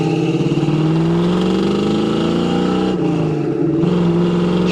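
A 1976 Pontiac Trans Am with a four-speed manual accelerating, heard from inside as a loud, steady engine drone whose pitch climbs, dips briefly at a shift, then rises again.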